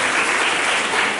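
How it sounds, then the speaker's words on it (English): Loud, sustained applause from an audience at a school Teachers' Day celebration program, a dense continuous wash of clapping with no break. "Now teachers, I ask you a question and your applause perhaps can say it."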